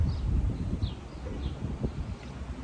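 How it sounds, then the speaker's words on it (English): Steady wind buffets the microphone outdoors with a rumbling low roar, and faint bird chirps come through in the distance. "Sorry, it's windy out here."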